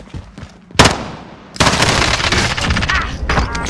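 Gunfire and a rocket launcher in the video game Call of Duty: Modern Warfare: a sharp blast, then dense sustained automatic fire and explosions, loud and close, with no talking.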